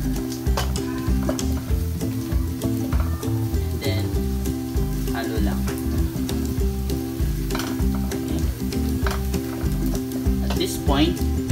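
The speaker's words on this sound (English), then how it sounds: "So just melt the butter." Butter melts and sizzles steadily in a pan as the base for spicy blue crabs, a constant close frying hiss with occasional stirring scrapes throughout.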